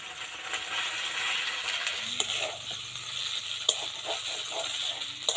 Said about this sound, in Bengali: মশলাগুলো ভালো করে ভাজা হয়ে গেছে এবার আলুগুলো ছেড়ে দেবো